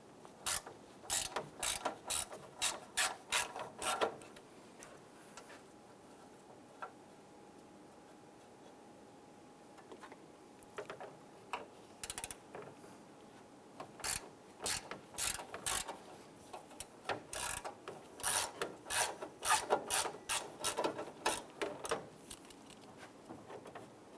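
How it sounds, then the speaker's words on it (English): Ratchet wrench clicking in rapid bursts while backing out two 8mm bolts holding the hood latch on a 1995-2001 Ford Explorer, close and crisp, with quieter pauses between runs. "we're going to remove these 2 8mm bolts here holding our latch in place"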